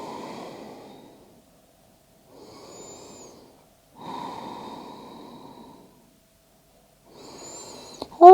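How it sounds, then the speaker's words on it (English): Slow, deep breaths during a traditional hatha yoga session, with long airy inhales and exhales separated by quiet pauses, close and fairly soft, with no talk. "Deep breaths."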